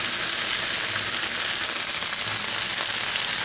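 Okra frying in a pan while being stirred, giving a loud, steady hiss and sizzle with a few faint scraping stirs, close and uninterrupted by talk.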